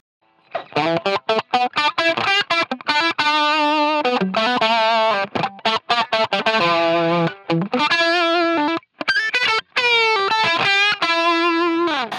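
An electric guitar through a Line 6 Helix with a compressor plays a distorted, tightly squashed lead line with quick notes and bends, even in loudness, heard alone without talk.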